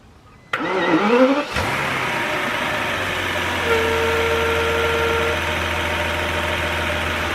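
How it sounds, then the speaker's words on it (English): A car engine, freshly dosed with engine flush, cranks briefly and fires up, then settles into a steady, close idle that runs on alone. "so the engine is now fired up"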